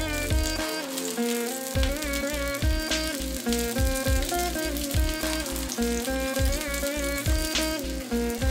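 Idli fry in plenty of oil in a pan with a steady dense sizzle throughout, close and loud, under a continuous musical background.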